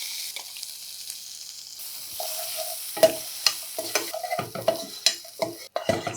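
Curry leaf and green chilli paste frying and being stirred in a pan, a soft steady sizzle with repeated sharp scraping strokes of the spoon growing busier toward the end, no voices.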